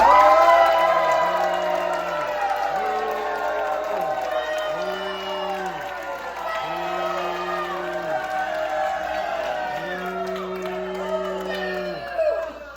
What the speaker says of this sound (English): you show me a round of applause